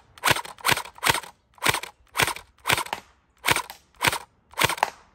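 A gel blaster fresh out of the box fires gel balls in eight sharp, evenly spaced pops at a steady rhythm, loud and close, with no talking.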